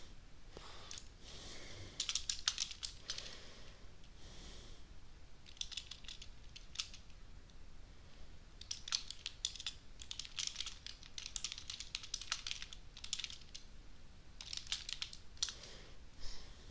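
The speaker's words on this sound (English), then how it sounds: "I'm typing something" Keyboard typing during a live Star Wars Battle of Coruscant session, coming in steady clattering bursts of keystrokes, close and fairly quiet, with short pauses between runs and no talk.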